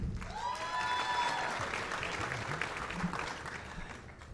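Applause and cheering fill a large room as a school superintendent is announced at a business keynote event, steady dense clapping throughout with brief voices and whoops mixed in.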